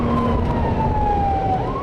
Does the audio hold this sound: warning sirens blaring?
yes